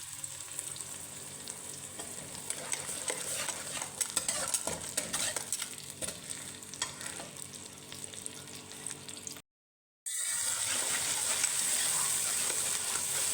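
Steady sizzling of onion and masala paste frying in a pan with occasional stirring scrapes, a short silent gap, then the sizzle resumes at a constant level.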